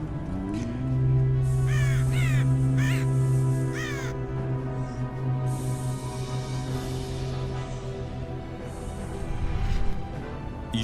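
Druid of the Crow unit in the Warcraft 3 video game giving several harsh, repeated caws in quick bursts over a steady droning game soundtrack, fairly loud and close.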